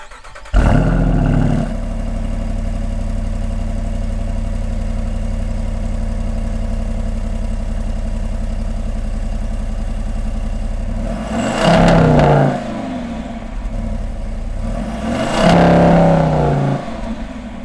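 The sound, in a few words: Jeep Wrangler V8 engine revving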